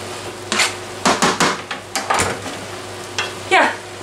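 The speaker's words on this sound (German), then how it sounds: "Und das Ganze lasse ich jetzt erstmal anbraten, ein bisschen, und dann kurz schmoren" Ingredients for a Chinese noodle stir-fry sizzle in a pan while a utensil scrapes and clatters in irregular bursts, loud and close over a steady frying hiss.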